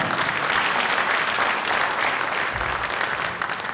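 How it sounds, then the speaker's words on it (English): Steady, dense applause from a large crowd at a police chief change of command ceremony, loud and sustained throughout with no pauses or voices standing out. "Great clap."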